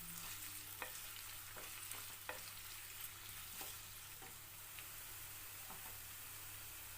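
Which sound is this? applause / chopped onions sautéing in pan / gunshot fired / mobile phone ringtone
chopped onions sautéing in pan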